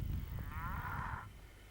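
Young heifers low in one drawn-out moo with a rising-falling tone, heard at moderate distance over steady low outdoor rumble, with no talking.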